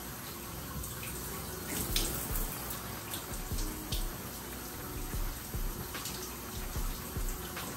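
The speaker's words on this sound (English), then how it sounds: "I'm gonna go ahead and rinse my hair off" Shower water runs steadily while hair in an afro crochet protective style is rinsed, a constant close splashing hiss with irregular drips and spatters and no speech.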